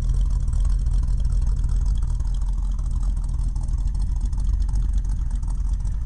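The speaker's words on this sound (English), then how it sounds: "You hear the old cam loping away there." A Dodge Dart 360 V8 with a loping cam and a new exhaust with glasspack mufflers idles steadily. There is a deep, uneven low rumble, close and continuous, with no talk.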